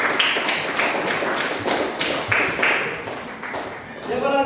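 A classroom of people claps together in a dense, steady patter, with voices mixed in toward the end.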